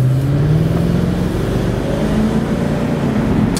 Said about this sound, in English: You hear that exhaust.